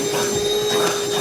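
A Ryobi 18V cordless project vacuum runs steadily at close range, a continuous motor whine with a high tonal hum and rushing airflow, loud and unbroken throughout.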